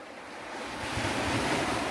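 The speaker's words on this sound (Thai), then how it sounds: "วันนี้ลมมันมันแรงนิดนึง" Strong wind blows at the seaside on Si Chang island, roaring close into the microphone over the steady wash of waves, rising louder after the first second.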